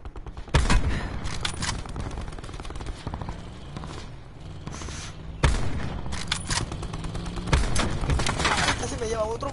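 Bursts of rapid gunfire crackle and boom in the video game Call of Duty 4, with loud volleys at the start and again midway, while people talk excitedly over them.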